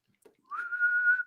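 A single short whistled note from a person, steady and clear, lasting under a second after a faint click, with no other sound around it.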